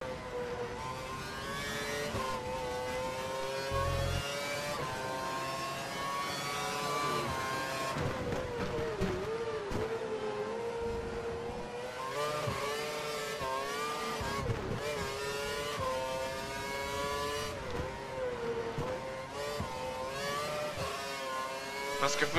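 A Formula 1 car engine in the F1 2012 racing game on the Malaysia circuit, running on cold tyres, whines continuously at high revs, rising and falling through gear changes with occasional tyre scrub.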